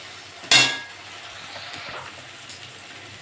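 A spoon stirs ginger-garlic paste and fried onions in a pan, opening with one sharp metallic clank against the pan and followed by faint scraping and a low, quiet background, then a lighter clink at the end.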